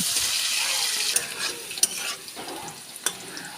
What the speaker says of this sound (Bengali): এবার আমি আলুগুলো হালকা করে ভেজে নেব।